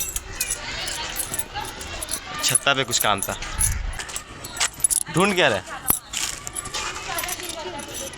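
A bunch of keys jangles and clinks repeatedly at close range at a school building under construction, with people talking over and between the rattles.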